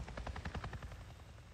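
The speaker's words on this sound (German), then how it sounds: "Da ist ein Hubschrauber, auch nicht schlecht." Rotor blades of a helicopter in the video game Days Gone beat in a quick, steady pulse, quiet and distant, fading slightly toward the end of the short stretch.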